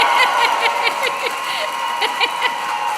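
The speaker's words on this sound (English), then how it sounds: "a big cheer for the graduating class of 2025" A large graduation ceremony audience of Creative Industries graduates of 2025 cheers and claps on cue, a steady dense roar of voices with scattered whoops and clapping filling the hall throughout.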